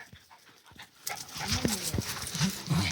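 A nervous dog pants and whines nearby during nearby gunfire, letting out short yelping barks over a steady background hum, with faint low voices in the mix.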